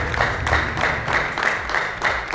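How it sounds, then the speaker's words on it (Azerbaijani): Audience applause for the Atəşgah dance group at a stage show, dense sustained clapping from a crowd that keeps a steady, fairly loud level throughout. "Atəşgah dansı, mən istəyirəm ki, siz özünüzü gür alqışlarla alqışlayasınız"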